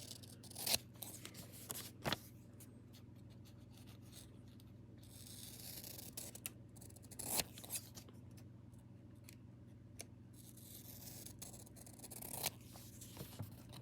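Scissors snip through a small square of paper, cutting close along its edge in a few quiet, separate bursts over a faint steady hum, with no talking.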